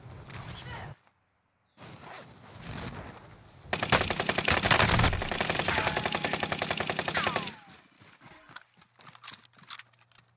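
Rapid automatic gunfire in Call of Duty Warzone, a loud sustained burst of closely spaced shots lasting several seconds, preceded and followed by quieter game sounds and scattered impacts.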